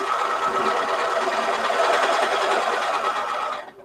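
A fine couture-style sewing machine with a thin 70 needle stitches a quilt across seams, a steady close mechanical whir with rapid rhythmic stitching that runs for several seconds before winding down.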